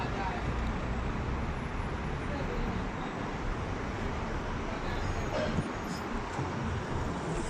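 Road traffic outside a shop at night, congested near an expressway exit, forms a continuous low wash of engine and road noise at moderate distance, with indistinct voices mixed in.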